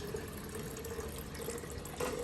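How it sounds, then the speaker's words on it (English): Water poured from a glass back into a bottle makes a soft, steady trickle, faint and close, swelling slightly near the end. "Now if I have to put this water back in the bottle, what will happen?"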